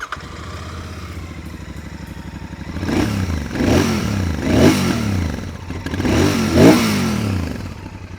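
A Royal Enfield Interceptor 650 parallel-twin idles with a low, steady burble, then the exhaust rises in three strong revs, each swelling and falling back, heard close and clear.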